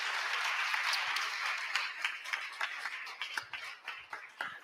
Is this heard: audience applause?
yes